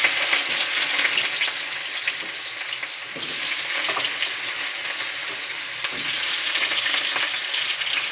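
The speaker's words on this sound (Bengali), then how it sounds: "এবারে এটা আমি ভেজে নেব।" Boiled and rinsed green jackfruit pieces sizzle steadily in hot oil in a wok, a dense continuous crackle with occasional stirring scrapes and no talking.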